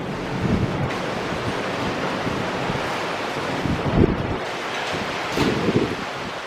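Steady outdoor wind roaring across the microphone in Macau the morning after a typhoon, with a few stronger gusts swelling briefly; no voices.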